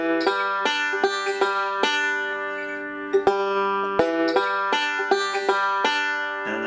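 A bluegrass banjo plays a lick in G, picking a forward roll with a slide in bright, crisp, evenly spaced plucked notes. The notes ring close and clear, with no other sound.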